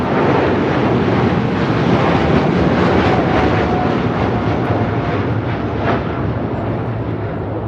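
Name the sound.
Boeing 747-8 freighter taking off at LAX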